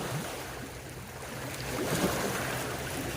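Waves lapping on water at a fishing spot in Barangay Navotas Amihanan, a steady broadband wash with gentle surges, fairly close and continuous, with no talking.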